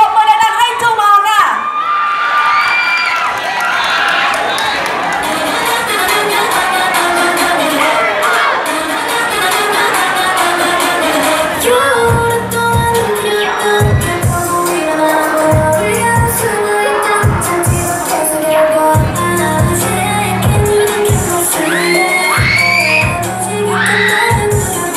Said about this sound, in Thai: ปรบมือแรงให้จูมอนค่ะ